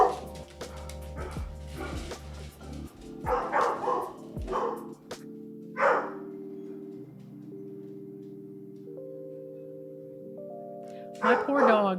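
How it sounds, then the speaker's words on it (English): A house dog barks and yips repeatedly in short bursts, then whimpers, reacting to the mailman, while a person talks over it and sustained electronic tones play in the background. "My poor dog thinks that the mailman is going to murder everyone in the house."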